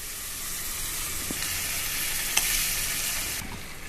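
Onion and tomato paste cooking in oil for an egg masala curry, giving a soft, even hiss with a couple of faint spoon taps, quiet and close.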